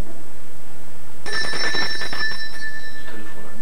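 A telephone in a home studio setting rings loudly and close with a single electronic trill burst lasting under two seconds, then a faint tail of ringing.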